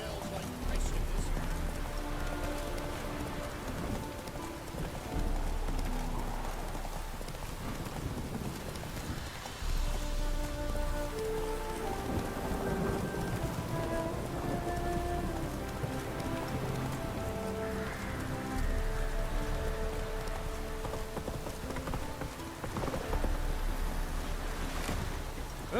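Rain falls in the video game The Witcher 3: Wild Hunt, a constant pattering wash heard alongside horse hoof clops, game music and intermittent talking.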